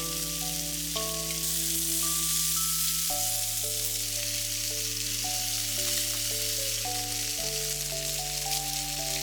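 Japanese long leek, green pepper pieces and sliced kamaboko fish cake fry together in one frying pan, giving a steady, even sizzle that runs throughout beneath prominent background music.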